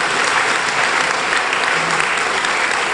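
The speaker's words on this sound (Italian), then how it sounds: "di Massimiliano Finazzer Flori, a cui farei un grande applauso" Dense, sustained audience applause fills the hall at an Italian ceremony honouring a performance paying homage to the Italian language; the clapping stays loud and even throughout, with no voices standing out.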